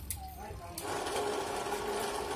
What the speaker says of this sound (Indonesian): Ini sama aja ya sama mesin cuci ya, putarannya ke kanan dan ke kiri ya